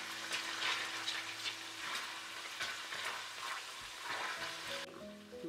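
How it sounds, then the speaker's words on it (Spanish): Garlic sizzling in oil over medium-low heat, a steady close frying crackle with stirring scrapes throughout, and no voices. "En este mismo aceite a fuego medio bajo agregamos el ajo y doramos por un minuto."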